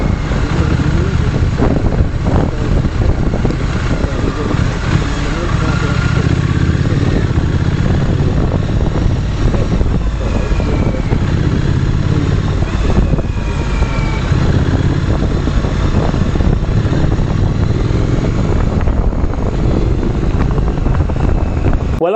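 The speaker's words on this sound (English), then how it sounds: "play you a clip of the audio that you'll capture as you're riding down the road" A motorcycle rides down the road as recorded by a Mercylion M1000 dash cam, giving a continuous loud engine drone mixed with heavy wind rush for the whole stretch.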